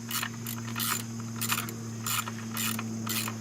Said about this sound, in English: make sure the ratchet kicks in instead of just unscrewing or going back and forth